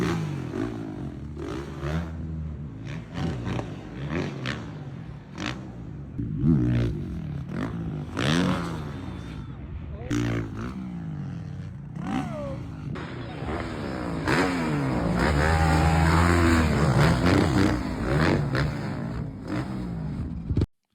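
Motocross motorcycle ridden by pro rider Ken Roczen on his first ride back, with a continuous buzzing two-stroke-style engine rising and falling through revs and gear changes, loud and close throughout with brief passing noises.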